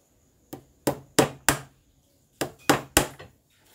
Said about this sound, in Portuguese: Vamos bater um preguinho aqui.